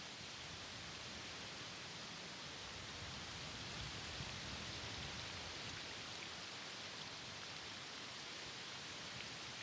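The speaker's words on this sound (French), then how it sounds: "Le temps tourne à la pluie." Steady, even hiss of rain falling, soft and continuous throughout with no voices or distinct drops standing out.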